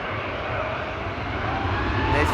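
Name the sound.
airplane at Amsterdam Schiphol Airport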